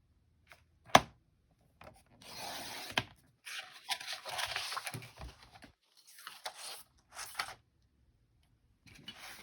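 Paper being trimmed at the end in a Christmas trifold ephemera folder craft session, heard as quiet scattered rubbing and cutting strokes in short bursts, with a sharp tap near the start and gaps of silence.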